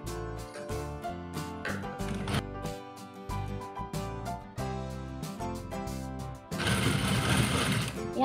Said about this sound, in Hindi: दूसरी सिलाई मारनी है